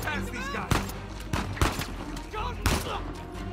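Rapid bursts of gunfire from the video game Uncharted 4, a few sharp loud shots scattered through a chaotic firefight, with a voice talking over and between them.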